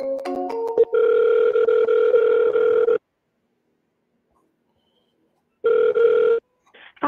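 An outgoing phone call placed a second time to a real estate contact: a few short dial beeps, then a steady electronic ringback tone in a long burst, a pause of silence, and a second shorter ring burst, with no talking.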